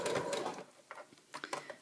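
Sewing machine stitching fabric in a short burst of fast mechanical whirring, followed by a few faint separate clicks and taps, close and fairly quiet.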